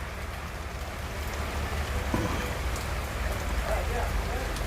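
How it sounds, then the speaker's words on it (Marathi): Heavy rain during a Kerala trip makes a steady, dense hiss that fills the whole stretch, with faint voices briefly under it. "पाऊस आहे जोरदार"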